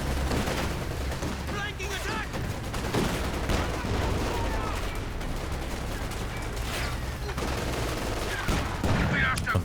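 Continuous gunfire and heavy tank cannon shots from the real-time strategy game Company of Heroes 2, with a Puma armoured car firing during a 2v2 match, forming a dense, loud barrage throughout with occasional sharper blasts.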